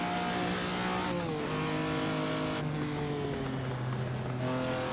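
A very expensive car laps the Nurburgring, its engine droning loud and steady inside the cabin as the pitch rises and falls with shifts and throttle through curves, with no talk.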